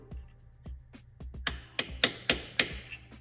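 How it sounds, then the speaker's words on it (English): A gear kit part for a Subaru 4EAT transmission fitted in a VW bus is tapped into place with a hammer, a series of about ten close metallic knocks that speed up and grow louder toward the end. "So let's tap this guy up until we get a taparoo."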